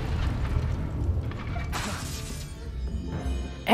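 Incendio fire spell cast in the Hogwarts Legacy game, a loud burst with a crackling, shattering rush that sweeps through and fades, ending in a sharp flare.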